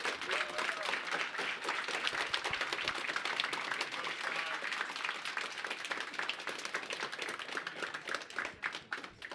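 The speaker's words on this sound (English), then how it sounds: "a big round of applause to what Scott is doing with his team at ESSEF" A crowd applauds at a spring championship awards ceremony, dense steady clapping that stays fairly even throughout and sounds somewhat distant.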